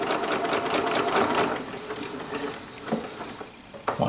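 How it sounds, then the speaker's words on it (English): Sewing machine stitching quilt pieces for flying geese blocks, a fast rhythmic mechanical patter that is close and steady at first, then slows and stops with a few scattered clicks. "I sew to the end."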